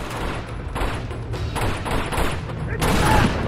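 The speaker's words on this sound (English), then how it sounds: "Who's shooting at me?" Gunfire from enemies in the video game Uncharted 2: Among Thieves, a dense rattling fusillade of shots and thuds running steadily through the clip, with a louder burst near the end.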